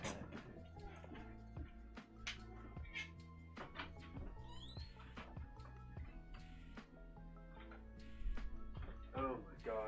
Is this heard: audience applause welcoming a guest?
no